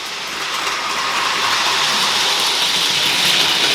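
A model train reverses to reposition at station 2 on a layout run with an ECoS 50210 ESU controller. It makes a steady, fairly loud rolling rumble and hiss that builds slightly as it runs.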